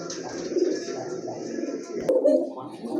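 Low coos from short-faced pigeons sound close by, overlapped by someone speaking, with a sharp click partway through.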